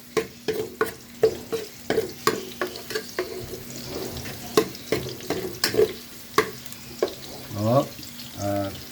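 Garlic frying in hot oil for Filipino tinola while being stirred, with rapid, regular scraping strokes of a spoon against the pan over a soft sizzle, close and loud, and a brief voice near the end.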